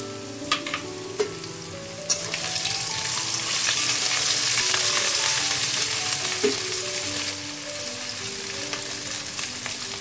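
Potatoes and ginger frying in a pan make a steady close sizzle that swells louder midway, broken by a few sharp clicks of a spoon against the pan.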